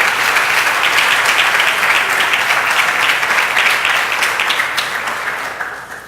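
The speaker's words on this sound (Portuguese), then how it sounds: "eu queria que você aplaudisse e glorificasse o nome do Senhor" Loud, dense applause from a congregation during a Friday church service, a continuous roar of clapping that holds steady and then tapers off near the end.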